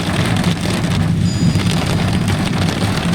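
Heavy downpour drumming hard on a moving car during a storm, a dense, constant hiss with a low rumbling undertone and no talking.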